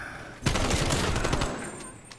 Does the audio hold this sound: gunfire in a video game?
yes